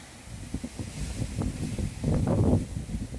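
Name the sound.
strong wind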